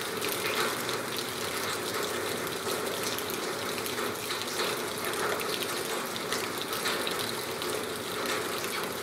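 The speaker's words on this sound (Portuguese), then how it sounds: "Barulho gostoso da água caindo" Water falls and splashes steadily on a country farm just after rain, a continuous hissing gush that carries on unbroken with no talking.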